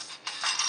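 A short, bright, tinkling chime as cash is picked up in a mobile zombie shooter game, a single quick jingle with no voices.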